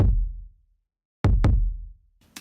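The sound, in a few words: kick drum samples played together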